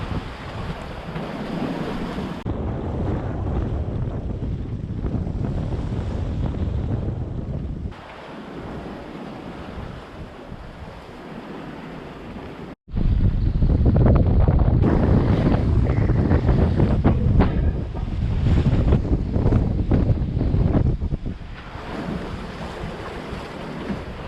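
Strong wind at sea around a sailboat in about 17 knots of breeze, a loud roaring rush with waves and hull noise, surging and dropping in intensity, then swelling louder for the second half.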